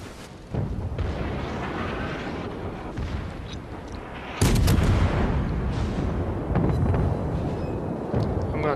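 Heavy naval gun salvos from the cruiser Cleveland in World of Warships, deep booming blasts at about half a second and four and a half seconds, each followed by a long rumbling roar, with a steady din of battle underneath.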